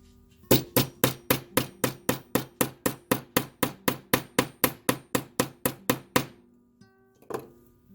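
Wire for wrapped earrings being work hardened with a hammer: about twenty evenly spaced, crisp metallic taps in quick succession, close and fairly loud, then a pause and one final softer knock.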